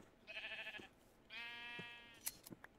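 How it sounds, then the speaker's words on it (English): Sheep bleat while being sheared in the video game Minecraft, two drawn-out wavering bleats one after another, followed by a few short clicks, fairly quiet and alone. "I'm going to cut all these sheep"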